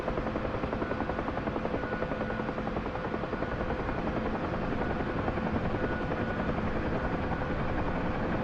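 A search and rescue helicopter flies overhead at a steady loud roar, with rotor chop and engine drone continuous and unbroken throughout, with no talking.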